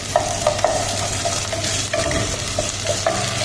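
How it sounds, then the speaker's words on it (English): Onion is stirred with ginger garlic paste in a pan for an Indian cabbage curry, a steady sizzle under repeated scraping strokes of a spoon against the pan, close and fairly loud, with no talking. "and have to mix"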